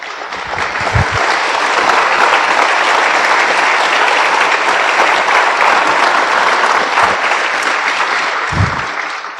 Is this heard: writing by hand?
no